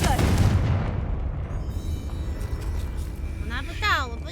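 A Confringo blasting spell bursts in Hogwarts Legacy with a loud, booming explosion at the start that rumbles and decays, followed by a brief whooshing magical flourish near the end, with speech present.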